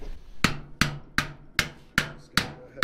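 A hammer strikes a car driveshaft clamped in a vise, seven sharp metallic blows at a steady, even pace, each ringing briefly before the next, close and loud with no talking.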